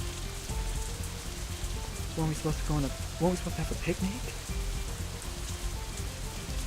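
Steady rain falls outside in the Katawa Shoujo visual novel, a soft, even patter that carries on under a spoken voice.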